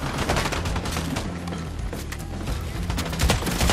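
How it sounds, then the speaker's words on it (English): A drum gun in a video game fires in a loud, rapid, sustained stream of shots, a dense, continuous rattle with heavy booms that lasts throughout. "I don't know how great that drum gun is."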